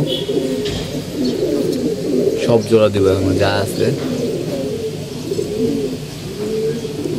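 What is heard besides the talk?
female pigeons cooing in a loft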